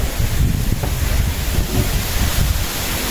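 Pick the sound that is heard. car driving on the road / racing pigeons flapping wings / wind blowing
wind blowing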